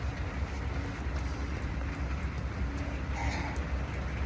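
Steady rain falls outdoors during a burpee workout, a continuous broadband hiss that stays even throughout with no voices.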